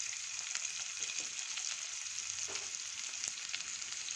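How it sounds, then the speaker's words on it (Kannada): A quiet, steady hiss of frying in a pan with ginger garlic paste, faint crackles and a few soft stirring taps, no voices. "ಇದು ಸ್ವಲ್ಪ ಫ್ರೈ ಆದಮೇಲೆ ಶುಂಠಿ ಬೆಳ್ಳುಳ್ಳಿ ಪೇಸ್ಟ್ ಹಾಕ್ತೀನಿ."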